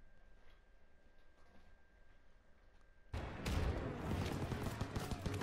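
Sudden burst of heavy gunfire erupts after a quiet stretch in Call of Duty: WWII, dense and loud, with machine-gun fire from a barn position among the overlapping shots and blasts.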